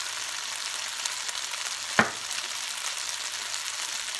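Puerto Rican rice seasoned with paprika frying in a pan, a steady close sizzle with one sharp scrape or clack of the spoon midway through the stirring.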